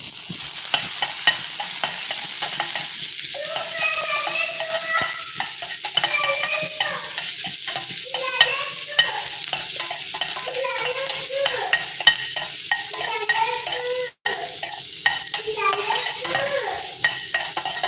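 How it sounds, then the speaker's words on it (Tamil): Onion sautéing in a pan for chilli-tempered sambar crackles and sizzles steadily up close, with a spoon repeatedly scraping and stirring through it and no voices, only a brief dropout near the end. "ஆனியன் சேர்த்துக்கிட்டு அதையும் லைட்டாக வதக்கி விட்டுறேன்"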